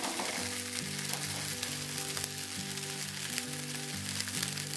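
A sabudana potato paratha sizzles steadily in ghee on a hot pan, a dense continuous frying crackle with low music running underneath and no talking.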